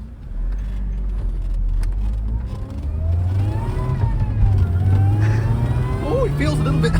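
Mercedes SLK turbo car engine revving close by, a deep steady drone rising and falling with a thin turbo whine on top, continuous for several seconds while people talk over it.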